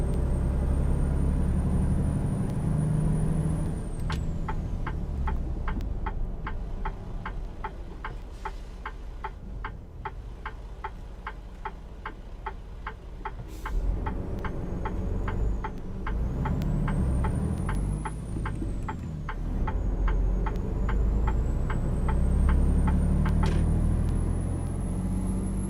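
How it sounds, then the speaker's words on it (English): A Detroit Diesel truck engine in American Truck Simulator drones low and steady, joined by a long run of evenly spaced indicator ticks and rising, falling whine as the revs shift. "this engine, I think this is a Detroit diesel that we got in here"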